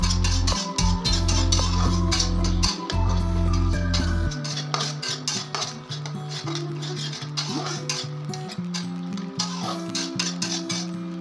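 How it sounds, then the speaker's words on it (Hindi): Kadai paneer masala with cream being stirred in a pan over low heat, with continuous close spoon scraping and clinks against the metal pan over a soft sizzle, the scraping growing lighter and more scattered later on, with no voices. "आप लगातार चलाते रहिए।"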